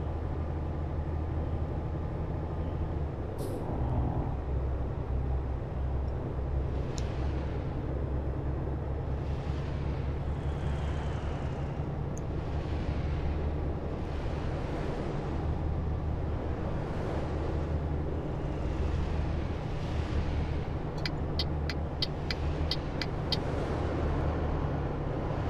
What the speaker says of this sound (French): J'essaie de pousser le camion au max pour voir combien ça peut aller.